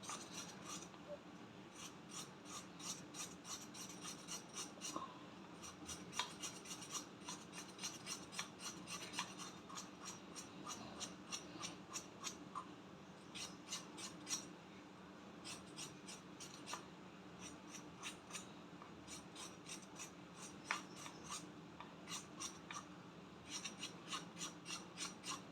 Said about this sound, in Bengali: খোসা ছাড়াবো না, জাস্ট ঘষে নেবো।